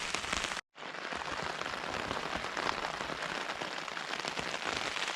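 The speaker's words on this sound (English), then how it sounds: "So you can hear it now, lashing it down outside." Heavy rain lashes down on a small Hilleberg Soulo tent during wild camping, a dense, steady hiss of drops drumming on the fabric that cuts out for an instant, then resumes loud and close.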